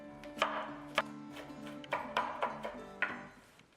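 Knife slicing through a fresh, sweet onion on a cutting board, several crisp chops spaced irregularly, close and clear with no talking.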